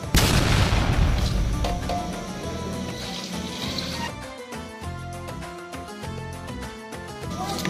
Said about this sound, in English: So let me just strain the water and get to the recipe.